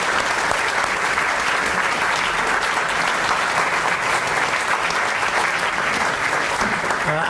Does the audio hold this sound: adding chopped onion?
no